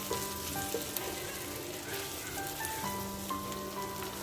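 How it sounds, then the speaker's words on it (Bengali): Yardlong beans fry in a pan for a Bengali mash dish, giving a faint, even crackling sizzle with a low steady hum underneath and a few light pops, close by and without voices. "একটু সময় নিয়ে ভাজতে হবে তাহলে বরবটিগুলো সব সিদ্ধ হয়ে যাবে"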